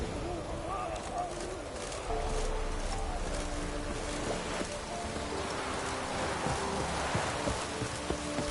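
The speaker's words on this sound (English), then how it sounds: "Looks like rain." Steady rainfall in The Witcher 3: Wild Hunt, near Fyke Isle, a continuous dense patter of drops with scattered splashes, moderately loud and unbroken throughout, with faint low tones underneath.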